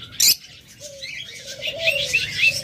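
Pet lovebirds in a cage give a few high, thin chirps and short whistled calls, close by, with a brief sharp flutter or rattle near the start and other faint bird calls in the background.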